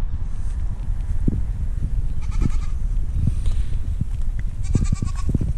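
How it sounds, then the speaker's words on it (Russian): A young goat bleats several times at a distance, short wavering calls over steady outdoor background noise in a coastal village in Asturias, Spain. "Вон, слышите, козленок, наверное."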